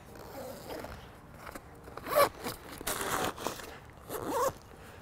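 A plastic zipper on a kite wing bag is pulled shut in two quick rasping strokes, close and crisp over faint background rustling.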